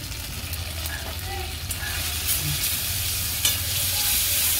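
Spices with turmeric and salt fry and are stirred in a pan for chickpea ghugni, giving a steady close sizzle with light scraping stirs throughout.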